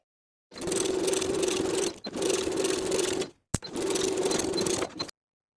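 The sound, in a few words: sewing machine top stitching a shirt jacket pocket flap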